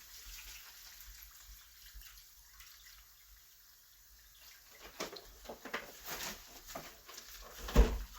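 Water pours into a pot of boiling orange peels, a near splashing gush that starts about halfway through after quiet, rising and sputtering toward the end.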